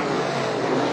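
Dirt late model race car engine roaring on a speedway track during a feature final, a loud, steady, dense engine drone sustained throughout with no pauses.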